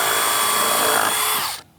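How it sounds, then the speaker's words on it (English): A power drill whines steadily at close range while boring a hole for a mirror dash cam wire inside a car, then stops abruptly near the end. "Here, I'm just drilling out the hole for the wire to funnel"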